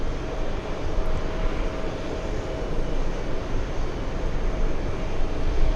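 Boeing 787 airliner taxiing toward a gate, a steady broad engine rumble and hiss heard from some distance, constant in level with no voices.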